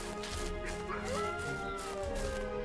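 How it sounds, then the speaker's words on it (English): Wolf howling in a survival video game, a sustained wavering cry rising and falling over steady background game ambience with faint yips. "There's a wolf."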